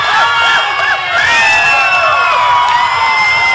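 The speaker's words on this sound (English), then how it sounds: "The crowd is eating this up" A boxing crowd at a WBC world title fight in Australia cheers loudly and continuously between rounds, with whoops, high whistles and shouts rising over the dense roar.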